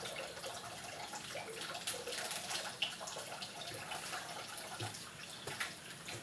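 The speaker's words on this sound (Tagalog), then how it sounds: "Hugasan muna." Running tap water flows steadily over bay leaves being rinsed in a kitchen sink, a continuous close splashing hiss with small irregular spatters and no talk.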